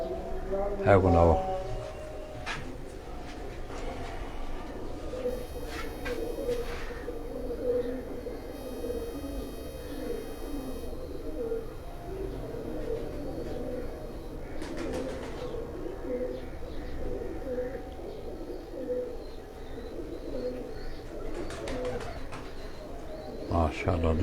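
Domestic pigeons coo in soft, repeated rolling calls, with other birds and people's voices murmuring in the background throughout.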